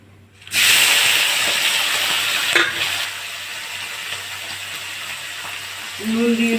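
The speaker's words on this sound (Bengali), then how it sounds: "এবার চিংড়িগুলো ভেজে নেব।" Prawns drop into hot oil in a home kitchen with a sudden burst of sizzling that settles into a steady, close crackle and hiss, broken by a brief stir or knock, for a jackfruit-and-prawn curry.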